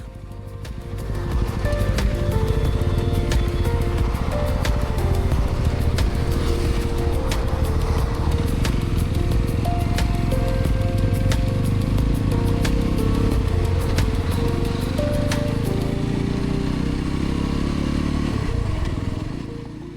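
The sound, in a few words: Yezdi Roadster motorcycle riding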